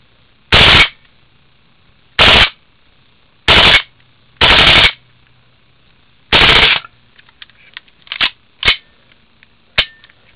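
A WE Hi-Capa 5.1 airsoft pistol modified for full auto fires five loud, close bursts of rapid gas-blowback shots separated by pauses, followed by a few short single pops.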